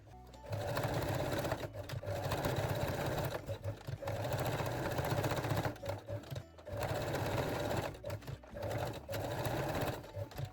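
A sewing machine runs straight-stitch seams on cotton jersey and lace panties, close and loud, in several long continuous whirring runs separated by brief pauses.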